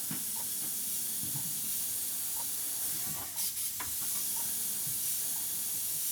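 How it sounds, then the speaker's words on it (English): A steady airbrush hiss sprays water-based paint continuously, fine and close, painting a fire design, with a few faint soft clicks and a brief dip partway through. "if we airbrush to follow that line, don't just spray there"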